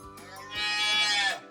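A calf's drawn-out bleating moo swells and fades, a wavering, nasal tone, close and fairly loud.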